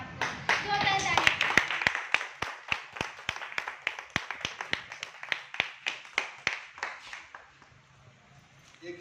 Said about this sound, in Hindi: आइए सर, जोरदार तालियां बजाइए।